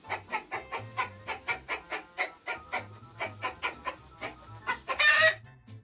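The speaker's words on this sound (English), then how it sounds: "Grandpa, the chickens are out. They're squawking and squabbling and racing about." Chickens squawking as a farmyard sound effect: a rapid, regular string of clucks, close and clear, ending in a louder burst of squawking.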